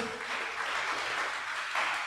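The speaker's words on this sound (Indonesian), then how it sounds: "Berikan tepuk tangan buat Tuhan Yesus" A church congregation at an Indonesian sermon applauds Jesus with dense, steady clapping that fills the whole short stretch at an even, moderately loud level.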